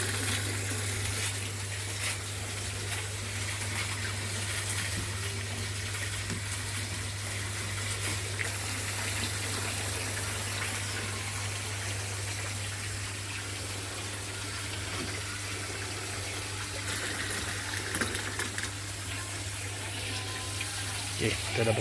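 Water rushes steadily through the opened valves of a recirculating aquaculture (RAS) fish tank system, a constant moderately loud gush with a low pump hum beneath, continuing unbroken throughout.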